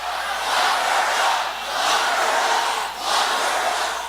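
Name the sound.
crowd chanting "Lock her up" at Trump rally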